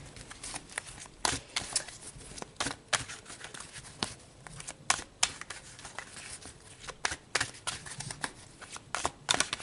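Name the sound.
shuffling and pulling tarot advice cards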